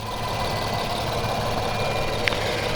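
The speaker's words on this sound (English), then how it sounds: "For an engine, we have a twin-turbo V6 pumping out 300 horsepower." Twin-turbo V6 of a 2020 Infiniti Q60 3.0t idling: a steady, close, low mechanical hum with even engine pulses and a brief faint tick near the end.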